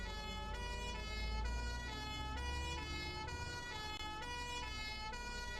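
In London Bus Simulator, an emergency siren alternates in a regular two-tone pattern, cycling repeatedly and fairly loud over a bus engine's constant low drone.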